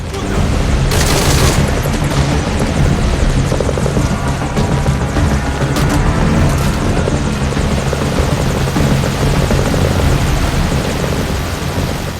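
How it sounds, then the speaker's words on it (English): A helicopter in Metal Gear Solid V: Ground Zeroes comes under fire and goes down, its loud, steady rotor drone running throughout with bursts of gunfire and a booming impact layered over it. "it looks like our chopper is taking fire, so let's go and provide some cover"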